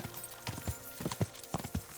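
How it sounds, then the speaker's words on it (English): Horse hooves clip-clop at a steady, unhurried walk through a town in the video game Kingdom Come: Deliverance 2. The irregular hollow knocks are moderately close over a low ambient bed, with no speech. "Old Mark, he's not the fastest horse, but man, he can carry the weight"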